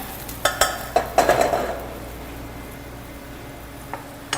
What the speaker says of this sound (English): let these onions saute a bit in butter